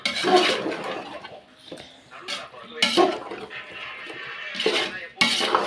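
One and a half kilos of chicken are stirred into Kashmiri-chili masala in a pot for Hyderabadi chicken dum biryani, with bursts of spoon scraping and clanking against the pot between pauses, under intermittent speech.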